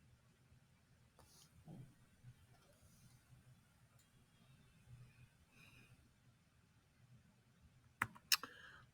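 Faint, sparse keystrokes on a computer keyboard tick away quietly in a still room, ending with a couple of sharper, louder clicks near the close.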